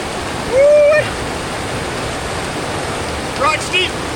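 Rushing water from a series of waterfalls on the Castleguard River in Banff, a steady broadband roar throughout, with brief whistled or voiced tones rising over it near the start and again toward the end.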